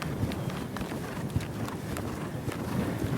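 Steady hoofbeats of a horse loping on a circle, a rhythmic muffled clip-clop over dirt with light wind noise, fairly close.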